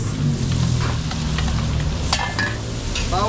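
Garlic and onions sizzling in a frying pan at a catering kitchen, loud continuous crackle and hiss up close with a few clinks of stirring.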